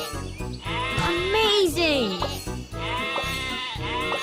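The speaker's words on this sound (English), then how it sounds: "Sheep have wandered onto the tracks!" Cartoon sheep bleat in a Thomas & Friends train video game, a wavering bleat standing out over upbeat game music, with a cheerful voice speaking briefly over it.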